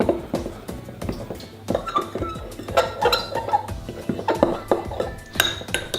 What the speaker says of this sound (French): je vais verser mon cacao dans ma farine et je vais venir le mélanger pour l'incorporer à la farine